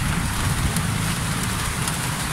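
Steady rain falls continuously at close range, a dense broadband patter with no clear gaps and no voices over it.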